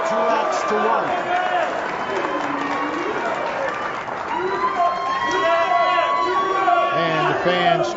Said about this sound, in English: Fans cheering on Team USA.